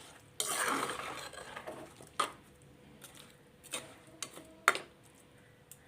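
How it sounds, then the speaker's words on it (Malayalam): Fish aviyal being stirred in a pot with rock salt and water: a scraping swirl of stirring up close, then several sharp clinks and taps of the spoon against the pot, spaced irregularly. "അത് നന്നായിട്ട് ഒന്ന് ഇളക്കി മിക്സ് ചെയ്ത ശേഷം മൂടി വെച്ച് വേവിക്കാം"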